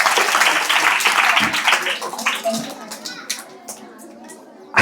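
Students in a government school classroom clap together in a dense burst of applause that thins into scattered claps and children's voices, then fades out.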